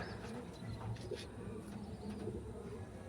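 Pigeons in a home collection coo softly at close range, low repeated murmuring throughout amid a faint background hiss.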